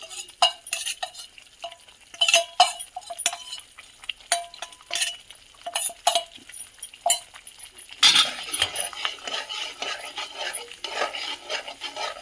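Soaked dry ginger roasts with spices in a pan while a spoon stirs and scrapes it, giving irregular metallic clinks and rasping strokes that become a denser sizzling scrape partway through.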